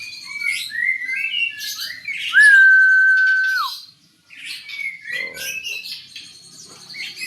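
A caged songbird calls close by in a series of chirps, squeaky trills and one long sustained whistle, with short pauses between phrases.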